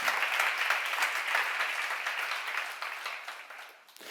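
An audience at a church seminar claps in sustained, dense applause that holds steady and then tapers off toward the end.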